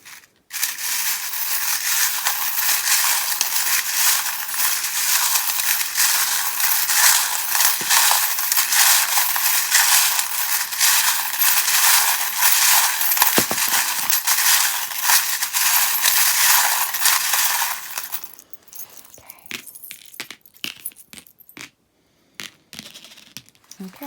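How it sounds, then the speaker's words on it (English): Small metal charms rattled and shuffled inside a tin, a dense continuous clatter of clinking pieces for most of the stretch, then scattered sharper clicks and taps as the shaking stops. "So I'm going to shuffle charms from this tin"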